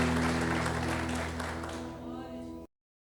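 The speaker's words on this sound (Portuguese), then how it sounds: "Aplauda o Senhor, aleluia." A church congregation claps together in worship, the applause full and sustained over steady held music tones, fading slightly before cutting off abruptly.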